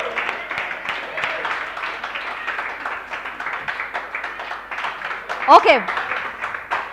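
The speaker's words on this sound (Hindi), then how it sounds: "चलो एवरीबॉडी क्लैप योर हैंड्स," Students in a classroom clap their hands for a few seconds during an income tax lecture, a moderate crowd of claps that overlaps with a voice speaking, before a brief squeaky sound near the end.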